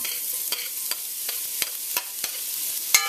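Garlic and sliced onion fry in hot vegetable oil, a constant bright sizzle broken by sharp spatula scrapes at irregular intervals, close up with no voices.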